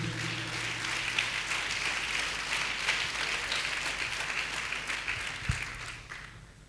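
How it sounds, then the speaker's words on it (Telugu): Worshippers in a church service clap loudly and steadily to glorify God, a dense, continuous crowd applause that holds for several seconds and fades out near the end. "చప్పట్లు కొట్టి దేవుడు మహిమపరచండి గట్టిగా."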